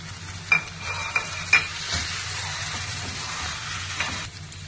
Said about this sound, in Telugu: ఆనియన్ కొద్దిగా వేగింది. ఇప్పుడు టమాటా కూడా వేసి